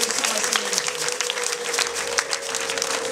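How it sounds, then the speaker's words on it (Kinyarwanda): Steady, dense applause from a wedding audience in Nyamata fills the space, loud and continuous with a broad hiss of many hands clapping at once. "bakomera amashyi icyarimwe bashimira aba bana"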